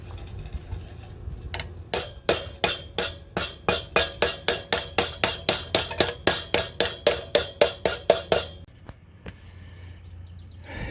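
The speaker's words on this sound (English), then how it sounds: "I just got a claw hammer. I get in here in a good spot, bang it down." A claw hammer bangs down on the metal of a pickup truck cab corner during replacement, giving about twenty sharp, evenly spaced metallic strikes in a steady rhythm, close and loud, with quiet shop ambience before and after.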